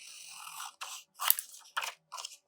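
Scissors cut through paper ephemera for a minimal collage in several close, crisp crunching bursts separated by short pauses, with no talking.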